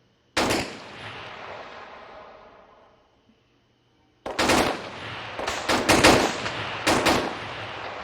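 Gunfire in the video game Arma 3: a first loud shot fades out into silence, then a rapid series of sharp automatic bursts and single shots follows, close and loud, with no talking.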